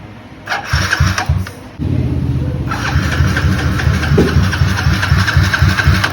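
A Thai streetbike motorcycle engine cranks in a few rough bursts, then catches and settles into a steady, close, throbbing idle with no talking.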